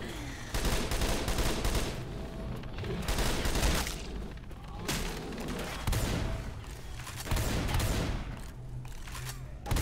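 Gunfire in the zombie shooter Left 4 Dead 2, with bursts of automatic rifle fire and heavy shots, some separated by brief pauses, loud and close throughout.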